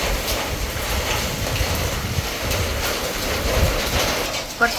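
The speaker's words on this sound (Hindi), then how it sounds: "इतनी अच्छी बारिश हो रही है" Heavy rain falls steadily in a broadband hiss with faint low rumble underneath, continuous throughout, with no voices.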